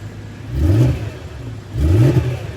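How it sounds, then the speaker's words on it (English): A 2010 BMW M3 4.0 V8 Monte Carlo Limited Edition with DCT automatic, 87,000 miles, idling and then given two short blips of the throttle, each rev rising and falling, close and loud. "So I'll leave the car running so you can have a listen."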